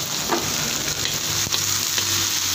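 Chop suey stir-frying in a pan, a steady dense sizzle of food in hot oil with faint scraping of stirring throughout, close and continuous with no talking.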